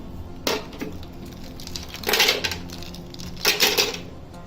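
Ice cubes dropped into a blender jar already holding crushed Oreo biscuits for a milkshake, three separate clattering hard clinks spaced about a second and a half apart, close and clear with a faint hum behind.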